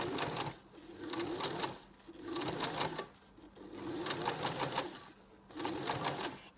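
A sewing machine stitches fabric crepe paper ruffles in four bursts of rapid mechanical whirring, each about a second or two long, separated by brief pauses, close and clear with no talking.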